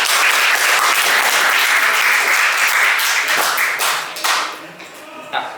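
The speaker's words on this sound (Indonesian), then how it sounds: "Tepuk tangan untuk kita semuanya." Loud, dense audience applause fills a school workshop hall at SMK Ma'arif 1 Wates, holding steady before thinning out and tapering near the end.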